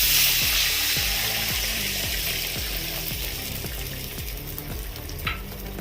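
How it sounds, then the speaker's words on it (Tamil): Milk poured into a hot pan for rava kesari sizzles with a loud frying hiss, over a rapid regular clicking rhythm like a ratchet, steady throughout and slowly fading without any talk. "பால் சேர்த்துக்கிறேன்."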